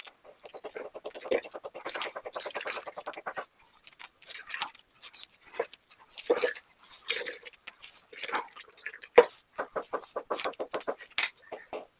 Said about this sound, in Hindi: अब हम इसको अच्छे से निचोड़ लेंगे। इसका पानी जो अच्छे से आपको निकालना है।